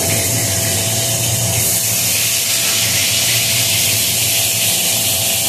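Cabbage tossed into hot oil spiced with ginger, cumin, coriander, tomato and chilli gives off a loud, continuous broad hiss, steady and close with no pauses.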